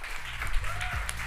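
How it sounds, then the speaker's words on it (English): Applause from an audience at an award ceremony, a steady wash of clapping for just over a second, moderately loud and continuous. "Another round of applause."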